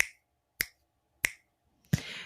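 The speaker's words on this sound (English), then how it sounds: "Snap your fingers 3 times." Three crisp finger snaps, evenly spaced about half a second apart, close and alone in a quiet room, followed by a brief burst of rustling noise.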